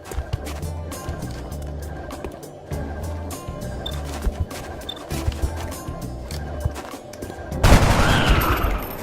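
Gunfire in the XCOM Long War video game: scattered rapid shots and impacts over a low rhythmic music score, ending in a louder burst of noise, with no voices.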